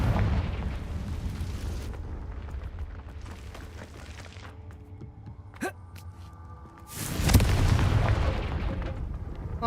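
A Confringo fire spell blast goes off in Hogwarts Legacy, a loud broadband whoosh and burst near the end, over a busy game soundscape with a short sharp crack midway.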